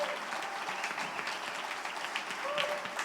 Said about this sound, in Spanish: Dale el aplauso más fuerte, se escucha muy, muy quedito ese aplauso.